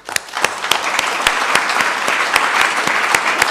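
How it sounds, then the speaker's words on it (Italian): Room of seated attendees at an Italian conference on autism applauding, a lively, even wash of many hands with sharp individual claps standing out, close and continuous throughout. "ti socializzo l'applauso delle persone che sono qui presenti"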